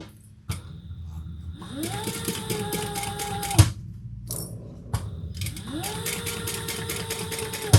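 A sewing machine bastes a seam on a Novella garment, running in two whirring bursts that rise up to speed, each ending in a clunk, with a click before each run.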